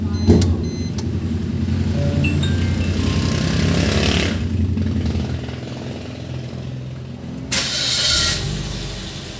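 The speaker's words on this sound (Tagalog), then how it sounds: "Ngayon, mag-start na tayo ng sasakyan." Suzuki Swift car engine starts after a short whirring crank, settling into a steady close idle, with a brief electric motor whir midway and another near the end.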